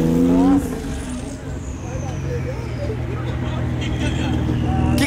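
Racing video game car engine roaring under nitro boost, a loud sustained mechanical drone with rising tonal whine near the start, continuing steadily throughout while a voice briefly talks over the opening.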